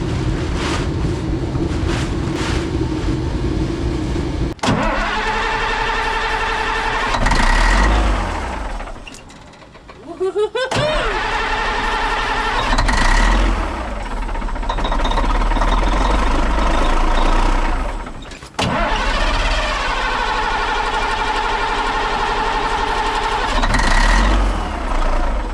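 Diesel engine of a long-unused Kenworth K100 cabover truck cranking and starting several times, each attempt catching into a loud near rumbling idle between brief dropouts, with no talk.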